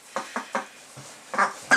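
Young ducklings quacking, a run of short nasal calls spaced roughly every fifth of a second, with a louder burst at the end, close and clear over a quiet background.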